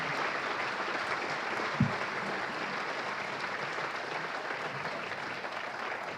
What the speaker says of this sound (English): one last round of applause for our finalists and the